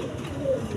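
Mundian pigeons, two cream-bar females, give a brief soft, low cooing murmur that is close but faint against a steady background.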